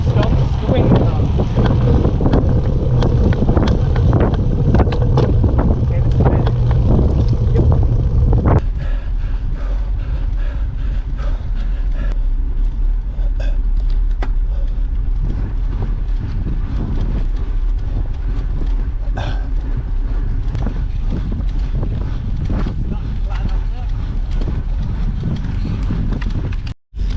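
Steady roaring wind buffets the microphone of a cyclist climbing a hill on a long sportive ride, loud and continuous throughout, easing slightly partway through.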